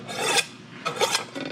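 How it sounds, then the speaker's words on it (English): A chef's knife rasps against the unglazed bottom of a ceramic plate in two quick, harsh scraping strokes and the start of a third, close and loud with no talking. "take your knife, and at a 20-degree angle, you can sharpen it just like that"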